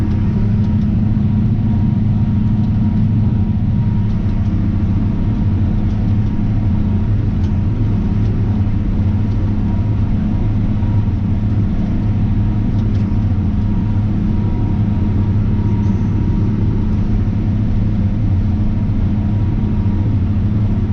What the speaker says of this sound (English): So feels good to be in the tractor.